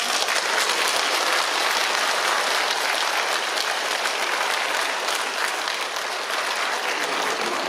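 Audience applause fills a Parents' Day ceremony in Pocheon, a steady dense clapping from a large crowd that holds at an even, loud level throughout with no talking.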